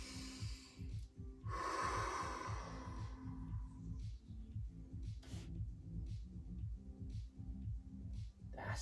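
Deep, audible breaths during a morning mobility exercise for desk posture, with a strong inhale and slow exhales in a steady rhythm, close and alone over a low background hum.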